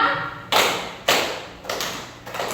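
Several sharp, loud hand claps sound alone, evenly spaced roughly half a second apart, each ringing briefly in a roomy space.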